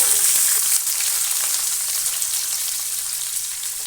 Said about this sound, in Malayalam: ഇനി ഇതിലേക്ക് ഒരു ടു ഫിഫ്റ്റി ടു ഫിഫ്റ്റി ഗ്രാമോളം ചെറിയ ഉള്ളി നമുക്ക് ചേർത്ത് കൊടുക്കാം